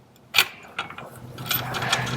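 Washer and nut being tightened on a motorcycle bead breaker tire changing tool, a series of close metallic ratcheting clicks and scrapes, starting with one sharp click and then running in quick bursts.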